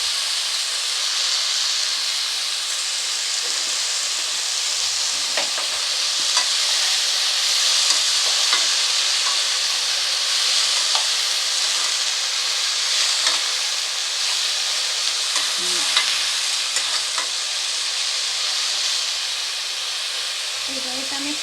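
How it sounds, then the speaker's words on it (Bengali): Young drumstick stems fry in a pan, a constant hissing sizzle filling the background while scattered scrapes and knocks from stirring come and go. Faint low sounds appear now and then. "ভালো করে নেড়ে দিচ্ছি।"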